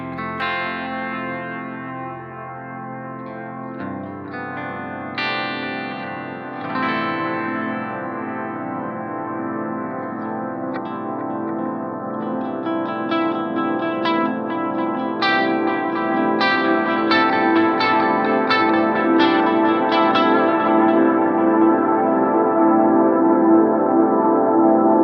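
A Strymon Brig analog delay pedal on a guitar hovers at the edge of self-oscillation, with repeats feeding back and building into a dense, swelling wash. It is loud and sustained throughout and grows slightly stronger toward the end, with no talking.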